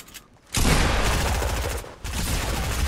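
Sustained rapid gunfire from a Fortnite match, loud and continuous with a brief drop in intensity before the shooting resumes, no talk over it.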